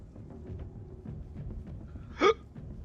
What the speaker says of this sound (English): Had the hiccups.